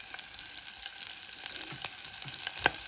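Star anise, cloves, green chili and curry leaves sizzle in hot oil as a tempering for white kadhi, a steady bright crackle with scattered sharper pops and a louder spit near the end.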